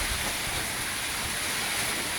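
Sudden heavy rain pours in a dense, unbroken hiss at evening, steady and close with no voices.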